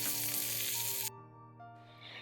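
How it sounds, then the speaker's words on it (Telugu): Hot oil tempering poured into yogurt for red amaranth raita, hissing in a loud, dense sizzle that cuts off sharply partway through and leaves a quieter, fading crackle. "ఈ పోపు తీసుకెళ్ళి మనం ముందుగా ప్రిపేర్ చేసి ఉంచుకున్న పెరుగులో వేసేయండి"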